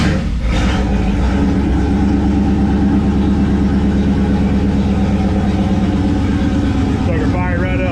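Car engine with FiTech fuel injection starting cold on a cool Florida morning and settling into a steady idle, a loud continuous low rumble with a rev blip near the end, under overlapping talk.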